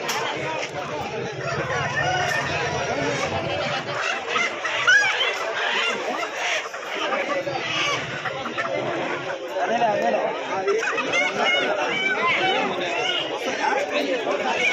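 Many country chickens cluck and squawk amid a busy crowd of overlapping voices at a village weekly market, with an occasional rooster crow rising from the noisy bustle.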